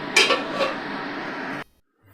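A lid set down on a pot of Bengali-style green egg curry, with a few light metallic clinks near the start, then a steady bubbling simmer that stops abruptly.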